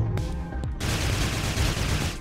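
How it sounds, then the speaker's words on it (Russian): Alternate-fire grenade from an assault rifle in the video game Sanctum, a few quick shots followed by a loud sustained burst of explosive noise, with no talking. "У автомата также есть альтернативный вид стрельбы. Это вот такая вот граната."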